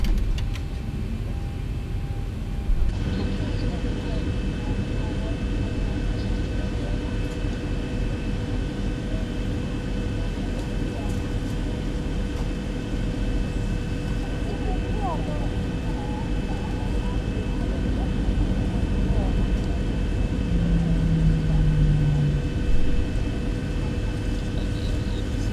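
A Boeing 737 taxiing in the X-Plane 12 flight simulator gives off a steady, loud engine drone with a constant hum that runs alone the whole time.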